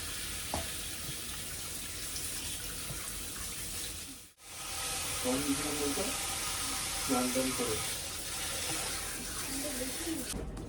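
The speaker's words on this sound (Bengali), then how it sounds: "চিকেনটা ধোয়াই আছে, তাও একটু ধুয়ে নিই।" Tap water runs steadily into a sink while chicken is washed under it, a continuous close rush that briefly cuts out midway, with a voice speaking over the flow.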